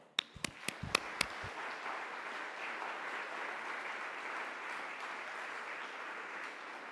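An audience applauding to welcome a speaker at a talk, opening with a few distinct claps and then settling into a steady, even wash of clapping that carries on throughout at a moderate distance.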